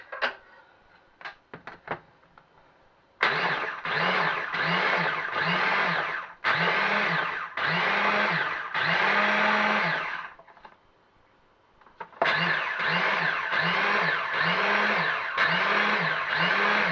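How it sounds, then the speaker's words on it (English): A food processor grinds Quorn into breadcrumbs in repeated loud pulses, each motor whir rising and stopping in a regular rhythm. A few clunks of handling come first, and a brief pause splits two runs of pulsing. "we're going to put it into a food processor. And we're going to actually process this until it becomes into breadcrumbs"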